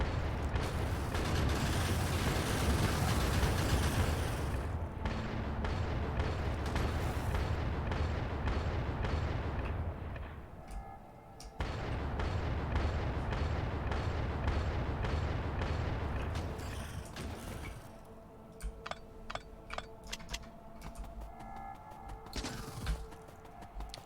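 Continuous rapid rifle fire in Factorio (Krastorio 2 mod), a dense mechanical rattle running in two long bursts with a brief break, followed by scattered single shots and clanks, loud and close, no talking.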